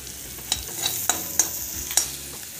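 Vada filling sautéing in a pan, a soft steady sizzle with a handful of sharp spatula scrapes and taps spread across it, close and fairly quiet, no voices.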